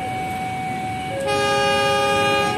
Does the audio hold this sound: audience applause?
no